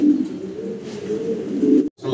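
A female pigeon, likely at a fancy pigeon sale, gives a low, continuous throaty coo close by, a single steady drone cut off abruptly near the end, with no talk over it.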